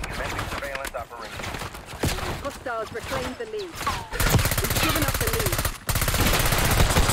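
AS Val rifle fire in the video game Black Ops 6: rapid bursts of close, loud automatic shots, growing into sustained fire in the second half, with a voice talking over parts of it.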